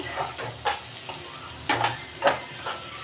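Golden-fried onions sizzle in a pan as a base for a bitter gourd curry. A soft steady frying hiss runs throughout, broken by several distinct stirring scrapes at irregular intervals, with no talking.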